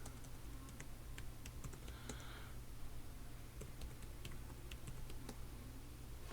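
Typing on a SPARCstation 10 computer keyboard: quiet, sparse individual key clicks at an irregular pace over a low steady hum, close and faint.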